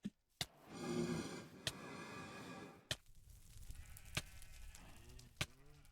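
Video game sheep bleat a few times, short wavering cries mixed with sharp clicks and a burst of rough, noisy rustling; nobody talks.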